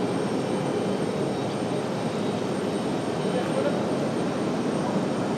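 An American Airlines Boeing 737 takes off from runway 23 at Raleigh-Durham airport, heard as a loud, continuous broadband jet roar that holds steady for several seconds.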